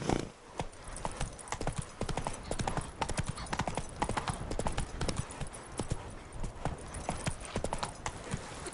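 Roach, a horse in The Witcher 3, trots along with a brisk, steady clip-clop of hooves, close and clear against a soft game ambience, no voices.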